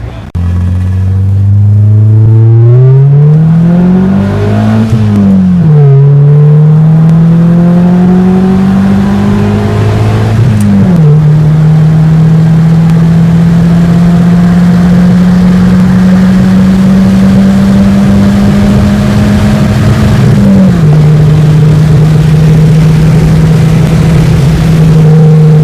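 Plum Crazy straight-piped Dodge Challenger at a car meet, its V8 rumbling loud and close as it circles, with repeated rising and falling revs and steady droning throttle between them.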